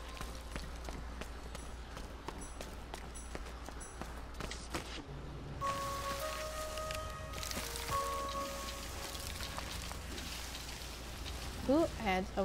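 Rain falling in the video game Concrete Genie, a faint steady patter under scattered game effects, soft footsteps and brief tonal chimes, with the whole scene quiet and low in level.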